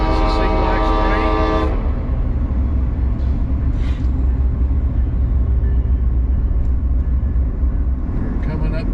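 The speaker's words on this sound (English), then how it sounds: "I love trains anyway. It's a Sea Lax train." A train in Seward, Alaska sounds its horn in a loud sustained blast that cuts off, then a rumbling roar continues steadily under road noise from a moving truck.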